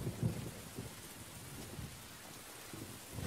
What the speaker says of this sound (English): And spring rains drench Manganini's home range.